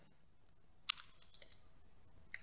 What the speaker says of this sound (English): just press S on your keyboard.